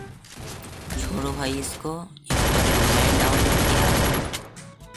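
Rapid automatic gunfire in the Free Fire mobile battle game, a sustained loud burst in the second half after a short stretch of game sounds under a man's speech.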